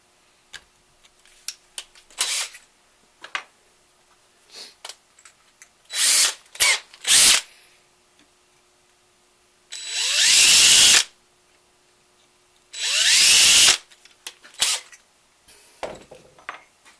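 A power drill with an 11/64 bit whirs in several short bursts, with two longer runs, separated by quiet gaps filled with small clicks and handling noises.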